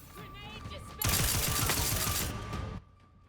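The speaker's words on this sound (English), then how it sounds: "I love the Tesla's like strike guns when they hit" Tesla strike guns fire in the Outer Worlds 2 video game, a dense burst of crackling electric shots lasting about two seconds, with faint game sounds and a tone before and after.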